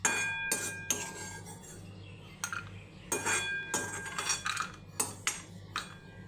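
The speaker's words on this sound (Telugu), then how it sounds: "ఇలా వేయించుకున్న వాటిని ఒక గిన్నెలోకి తీసుకుందాం." Roasted cashews and almonds are tipped into a bowl, bringing close, sharp metallic clinks and scrapes of utensils in an irregular series of taps with short pauses between them, and no talking.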